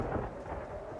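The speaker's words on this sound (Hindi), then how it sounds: "बारिश भी अब तेज हो चुकी है।" A thunderstorm rumbles low beneath heavy rain, the deep roll of thunder and dense hiss of falling water blending into one continuous, fairly quiet wash of storm noise.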